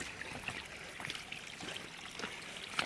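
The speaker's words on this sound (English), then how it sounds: "Doing a little walking right through the stream." Footsteps splashing through a shallow stream on the Gold Strike Hot Spring trail near Las Vegas, with faint trickling water and a few soft sloshing steps, low and close.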